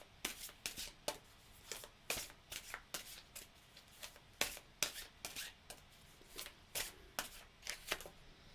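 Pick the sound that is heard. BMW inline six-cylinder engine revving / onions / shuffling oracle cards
shuffling oracle cards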